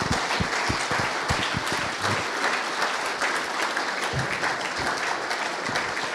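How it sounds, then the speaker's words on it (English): Sustained applause from a conference audience in a hall at a security event's main stage, steady dense clapping filling the whole stretch with no speech. "And please give a round of applause."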